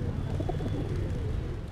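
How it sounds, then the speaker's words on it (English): Pigeons coo softly in a busy Mumbai street setting, low murmuring calls buried under steady city background noise, fairly faint and continuous. "A common sight in Mumbai. Pigeons at every turn, along with those feeding them."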